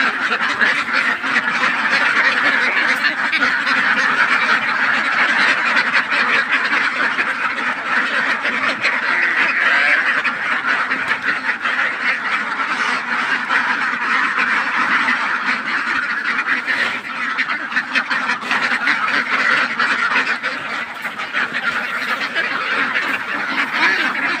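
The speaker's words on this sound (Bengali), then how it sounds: "হাঁসের খুব ক্ষুধা লাগছে, এই কারণে হাঁস ডাকাডাকি করতেছে" A large flock of hungry ducks quacks loudly and nonstop, many overlapping calls forming a dense, continuous racket close at hand.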